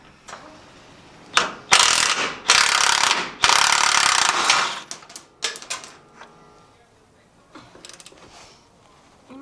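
A ratchet loosens a nut on a 1972 K10 truck: loud, rapid clicking bursts in several runs, then lighter metallic clinks and fumbling as it trails off.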